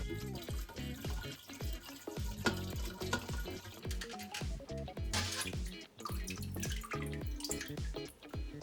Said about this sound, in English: And I add water to sieve it easily.